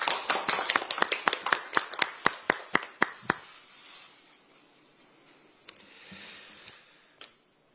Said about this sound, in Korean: 먼저 하정우 전 수석비서관을 큰 박수로 맞이해 주시기 바랍니다